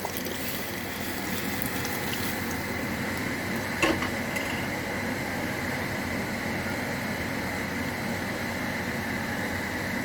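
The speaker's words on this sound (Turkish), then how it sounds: "Ve üzerine çıkacak kadar su ekliyorum." Water is poured into a pot of meatballs and potatoes, a steady rushing wash of sound that runs the whole time, with a brief clink near the middle.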